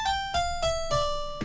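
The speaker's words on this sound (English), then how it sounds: "we're going to go with this Saint Harpsichord." A harpsichord preset from a 90s R&B preset pack plays four plucked, bright notes in a steady sequence, each with a sharp attack and ringing decay, then ends on a brighter final hit; close, clear and without talk.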